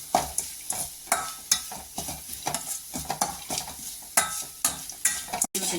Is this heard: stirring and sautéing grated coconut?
yes